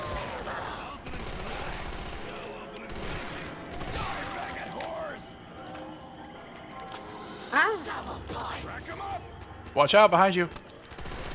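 An MG42 machine gun fires in a zombies shooter, short bursts of rapid shots, with a louder burst late on, under a voice that talks through much of it.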